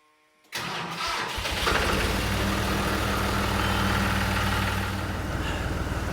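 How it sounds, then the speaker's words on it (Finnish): A tractor with new, thicker battery cables starts up: after a moment of silence the engine cranks briefly, catches and settles into a loud, steady, rumbling idle nearby. "No, oikein kevyestihän se starttasi."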